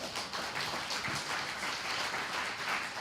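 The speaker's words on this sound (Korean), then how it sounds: "모두에게 박수 한번 주십시오." Steady applause from a crowd at a Democratic Party leadership candidates' joint campaign rally in Busan, dense and continuous clapping at moderate distance with no voices over it.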